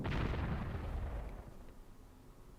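An artillery piece fires in the Panzer Corps war strategy game: one heavy, deep boom that rolls out and slowly fades over a couple of seconds, loud and alone.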